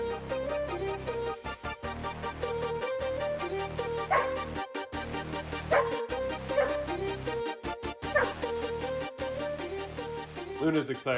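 Luna, an excited dog in a home workshop, yips, whimpers and barks in quick uneven bursts, close and fairly loud, some calls rising into high whines, with a few short pauses between.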